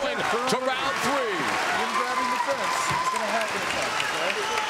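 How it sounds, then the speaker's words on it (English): Crowd applause at a Strikeforce mixed martial arts fight between Luke Rockhold and Tim Kennedy, steady clapping heard underneath a commentator talking continuously. "Luke Rockhold's mother in attendance applauding the efforts of her son"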